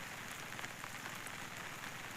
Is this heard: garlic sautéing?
no